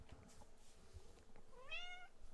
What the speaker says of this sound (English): I don't know if you can probably hear her meowing.